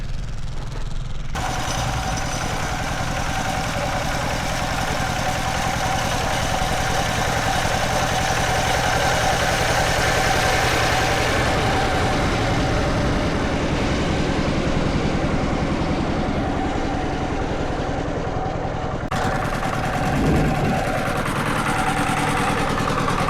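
An irrigation water pump engine runs steadily at a constant idle-like pitch, a continuous mid-range drone heard close and alone, with a brief shift in tone near the end.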